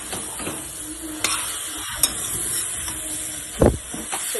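Okra, tomatoes and spices sizzle and hiss in a hot pan, with a spoon scraping and clinking against the metal as the mixture is stirred, the steady frying noise close and continuous.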